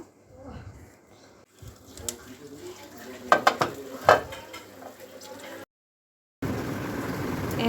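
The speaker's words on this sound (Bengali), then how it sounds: "এখন এই প্লেট বাটিগুলা ধুয়ে তারপর আমি গোসল করতে যাব" Plates and bowls being washed make clinking and clattering in irregular knocks, with a cluster of sharper hits in the middle and water noise throughout, cut by a brief silence near the end.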